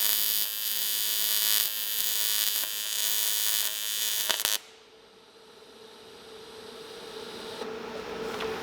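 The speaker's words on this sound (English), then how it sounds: "These are not going to be pretty welds, they're just going to be functional welds" Welding on fuel system parts for a Nissan 350Z twin turbo build, a steady loud crackling buzz with mains-like hum for about four and a half seconds, then it cuts off, leaving a quieter hum.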